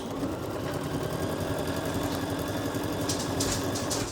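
A sewing machine stitches through quilt fabric, a steady, fast mechanical whir that runs without a break, with a few light clicks near the end.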